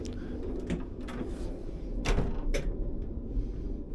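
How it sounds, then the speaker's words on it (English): A few short mechanical clicks and clunks of a toilet door latch being moved by its handle aboard a PKP Intercity Stadler FLIRT train, close by, over a steady low rumble of background noise. "The door is easily locked by moving this handle."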